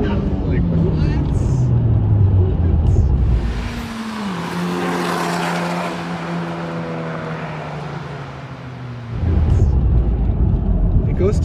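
A tuned Honda Civic Type R FK8 with an ECU tune to 400 bhp and a cat delete pulls hard. The loud, close engine note climbs in pitch, shifts, and holds a raspy drone, with voices at times.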